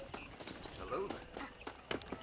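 Horse hooves clip-clopping in the video game Red Dead Redemption, a quiet uneven string of sharp hoof knocks at walking pace, with a voice speaking briefly over the steps.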